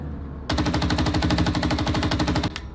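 A .50 cal machine gun fires in the PC tank simulator Gunner HEAT, rattling off one rapid, evenly spaced burst of about two seconds, then a single trailing shot.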